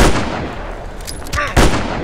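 Sharp, loud gunshots ring out in the video game Shadows Peak, a couple of heavy bangs with brief echoing tails over a low background hum.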